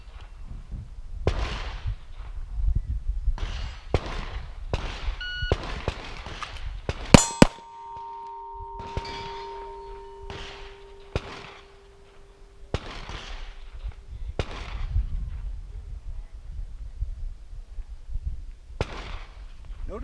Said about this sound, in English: Now let's shoot from extension.